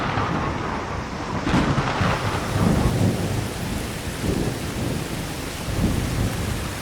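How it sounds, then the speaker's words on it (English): The first rain of the season pours down in the Amazon: a loud, steady roar of heavy rainfall beneath deep, rolling thunder that swells and fades throughout. "the first rain of the season finally arrives"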